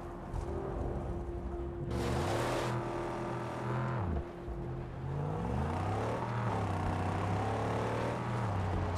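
Buggy engine in the Mad Max game revving and driving, a loud close roar with shifting pitch swells, a sharp burst of noise early on and repeated throttle rises and dips.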